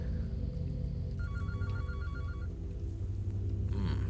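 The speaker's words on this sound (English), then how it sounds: "Another phone ringing." A telephone rings in the horror video game Anthology of the Killer, a short electronic trill heard faintly over a low, droning ambient hum.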